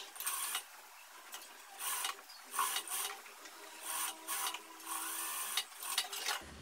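A sewing machine stitches a blouse lining in short, repeated bursts of rapid mechanical clatter separated by brief pauses, close and fairly quiet.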